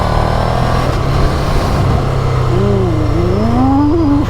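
A Ducati Scrambler 800 motorcycle with a quick shifter accelerates, its engine note climbing in pitch through quick upshifts over a steady roar, loud and close.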